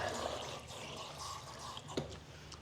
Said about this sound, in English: now it's time to drain the water and then run some fresh water over that